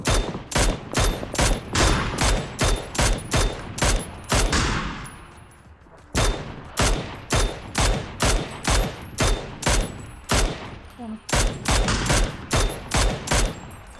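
Rapid bursts of automatic rifle fire in PUBG on the snowy Erangel map, loud and close, repeated shots in quick rhythmic volleys with a brief pause midway before firing resumes.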